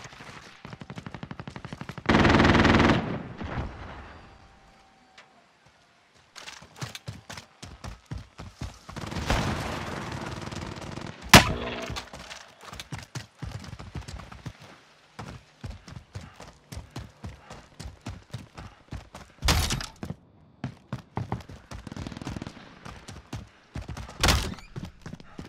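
Automated sentry gun in the video game Call of Duty: Modern Warfare fires rapid bursts of gunfire in repeated clusters, with sharp loud shots and clattering impacts spread across the stretch, separated by brief pauses.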